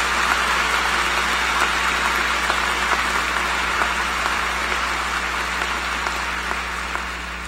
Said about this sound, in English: let's give them a round of applause for the wonderful service to our country